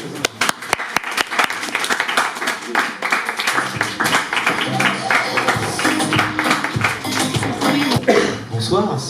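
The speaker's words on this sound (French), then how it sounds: "je vous demande de faire un tonnerre d'applaudissements pour accueillir Pierre-Georges" Audience applause fills the room as a speaker is welcomed at an evening community event, dense, loud clapping throughout with some voices and cheers mixed in under it.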